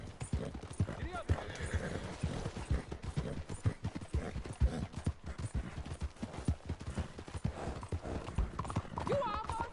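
Rapid, steady clip-clop of horse hooves at a gallop in the video game Red Dead Redemption 2, mixed with other game sounds and a murmur of voices.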